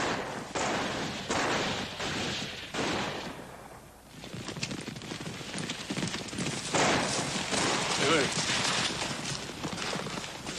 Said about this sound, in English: When I heard gunshots.